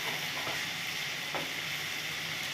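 Pointed gourd frying in a pan for a vegetarian curry, with a steady, dense sizzle throughout and a few faint stirring scrapes. No one speaks.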